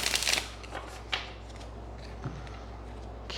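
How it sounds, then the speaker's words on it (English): Tarot cards shuffled in a quick burst of riffling and fluttering at the start, then a few soft, isolated card slaps against a quiet background, close and fairly faint. "I think I want to do one shuffle."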